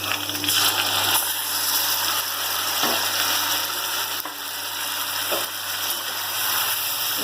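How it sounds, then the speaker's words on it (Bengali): Marinated chicken tipped into a hot pan of chopped onion and garam masala sizzles loudly and steadily, a dense continuous hiss with faint stirring, close up and without speech. "এবার আমি এই যে ম্যারিনেট করা মাংসগুলো এবার ঢেলে দিচ্ছি"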